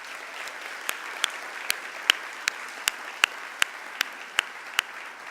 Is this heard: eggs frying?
no